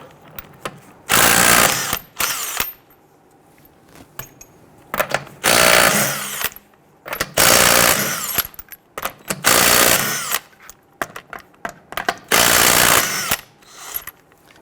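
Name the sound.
loosening and removing Toyota RAV4 lug nuts with 21mm socket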